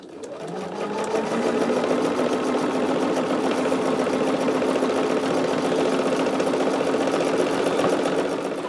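A home sewing machine stitches through quilt batting for a project, running steadily at close range with a fast, even mechanical whir that holds without pause for the length of the clip.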